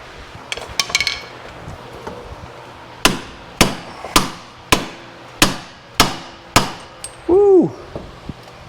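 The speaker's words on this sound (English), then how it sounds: "I might have to tap front of this with a hammer to get that out" A hammer taps out a rear axle CV joint on an Odes Dominator 1000cc X4 UTV, a few light taps and then about eight sharp metallic blows in a steady rhythm, close up, with a brief ringing squeal near the end.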